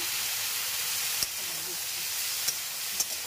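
Cauliflower pieces fry with turmeric and salt in a pan, giving a steady close sizzle throughout with a few small sharp clicks of stirring.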